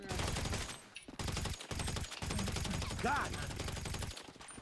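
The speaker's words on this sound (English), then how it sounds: "Shooting the bush." Rapid automatic gunfire rattles in long dense bursts in the video game GTA 5 as shots are fired into a bush, loud and close, with a brief spoken remark partway through.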